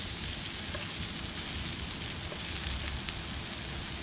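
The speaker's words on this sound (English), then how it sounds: "mushrooms gonna get smaller as they fry" Mushrooms fry in a pan over an outdoor campfire, giving a steady, dense crackling sizzle with no gaps for the full few seconds, close and even in loudness.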